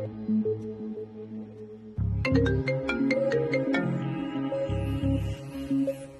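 A mobile phone ringtone plays alone as a bright, repeating electronic melody, loud and close, starting quietly and swelling fuller after a couple of seconds.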